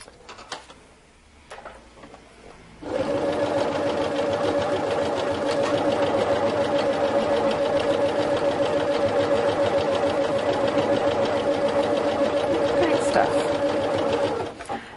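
A Pfaff Quilt Ambition 630 sewing machine starts stitching after a few seconds of quiet handling, then runs steadily at a close, even, rapid mechanical hum and patter until it stops just before the end.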